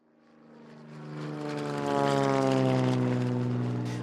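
A small propeller airplane flies past, its droning engine hum with steady harmonic tones swelling from faint to loud and holding close, alone with no voices.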